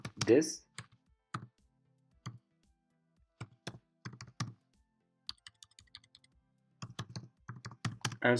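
Computer keyboard typing in short irregular bursts of close, crisp key clicks separated by pauses.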